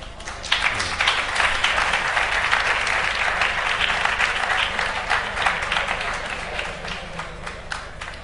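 Audience applause at a round-table session of an education congress, steady and full clapping from a large crowd that continues evenly for several seconds with faint voices beneath.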